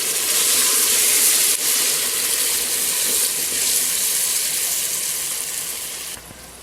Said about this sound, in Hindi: अभी इसके अंदर आप आधा किलो गर्म पानी जो है ना वो डाल दें।